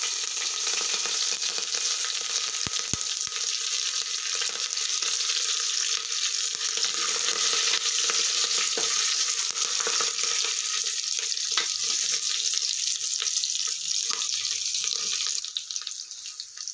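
Green chilies frying in a pan for coconut milk biryani rice, a loud continuous hiss and crackle of hot oil with occasional stirring clicks, steady and close throughout.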